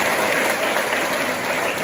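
Audience applause for a school headmaster at a 65th anniversary ceremony, a dense, steady clapping from a large crowd that fills the short moment without talk.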